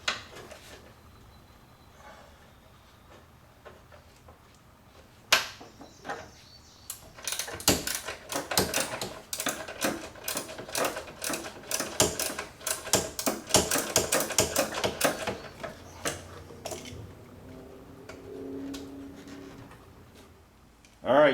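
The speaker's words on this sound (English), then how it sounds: "Alright, so we got these two 13 bolts loose." Ratchet wrench loosening 13 mm bolts on a Corvette C4 rear shock absorber, a long burst of rapid close clicking ratchet strokes in the middle, with brief metallic knocks before and after.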